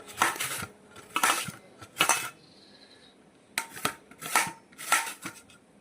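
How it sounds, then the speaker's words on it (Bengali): Papaya being grated, heard as rhythmic bursts of rough rasping strokes, about six close, moderately loud scrapes with short pauses between, and no talk. "এই পেঁপেটা এখন একটা দিয়ে ঘষছি"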